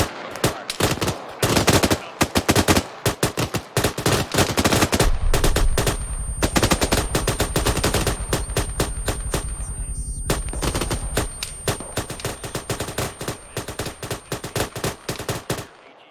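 Sustained machine gun fire from a British campaign military game, loud, near and continuous: rapid bursts of automatic shots repeat across the whole stretch, with a long unbroken burst in the middle, and no talking.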